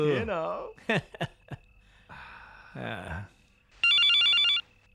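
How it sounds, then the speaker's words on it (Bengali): Short bursts of talk, then a single loud electronic telephone ring, a fast trilling tone that rings for about a second and stops. "আবার কার ফোন এসে গেল?"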